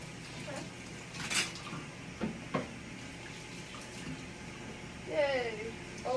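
Dishes being washed in a kitchen sink under a running tap, with faint water flow and occasional soft clinks of cutlery and plates, quiet and close.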